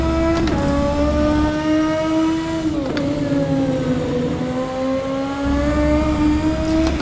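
A race car engine in rFactor 2 holds a loud, sustained tone that rises and dips with the throttle, with a brief lift near the middle before building again, alone without voices.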